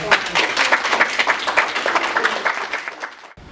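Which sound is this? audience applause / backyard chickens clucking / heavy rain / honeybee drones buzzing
audience applause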